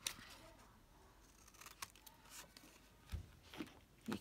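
Scissors trimming paper ephemera, very quiet and close, with a few separate snips and crisp paper rustles spaced across a few seconds.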